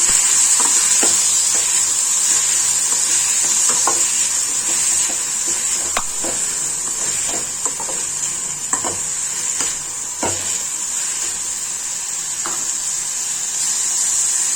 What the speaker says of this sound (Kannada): ಬೀನ್ಸ್ ಹಾಕೊಳತ್ತೇನೆ. ಇದನ್ನ ಒಂದು ಸ್ವಲ್ಪ ಫ್ರೈ ಮಾಡ್ತೀನಿ.